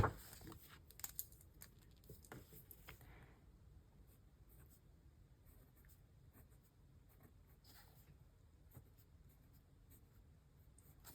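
Pen writing in a newly set up doodle planner with Monday starts, a soft scratchy scribble that runs steadily and close up, with a few louder paper rustles and taps near the start and no talk over it.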